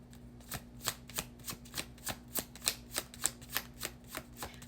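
Tarot cards are shuffled by hand in a quiet room, giving a dozen or so soft, evenly spaced flicks and slaps at a steady rhythm, close and fairly gentle.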